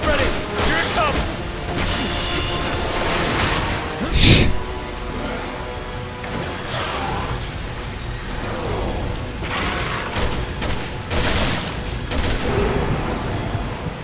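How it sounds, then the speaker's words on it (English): Gunfire rattles through a Resident Evil 6 game scene, loud dense bursts and shots layered with rumbling effects over several seconds, with a player talking underneath. "Keep shooting him back."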